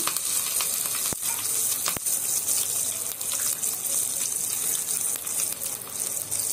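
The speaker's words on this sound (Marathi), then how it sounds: "बाजूला करून त्यात कढीपत्ता टाकूया, 2 मिरच्या," Curry leaves and green chillies hit a hot mustard-seed tempering, giving a loud hissing sizzle with two sharp spits early on, then a steady spattering crackle.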